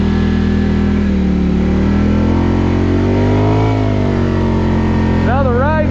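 A Polaris Scrambler 1000 ATV on a snowmobile trail in the North Woods, its engine droning loud and steady as it climbs and eases in pitch, with a voice talking over it near the end.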